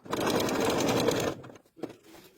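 A sewing machine runs in one steady burst of stitching as a zipper is sewn into a reversible jacket, then stops abruptly, leaving a few soft handling clicks and rustles.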